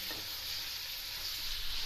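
Tomatoes frying in hot oil for chicken zafrani karahi, a dense, even crackling sizzle close up, steady throughout with no voices.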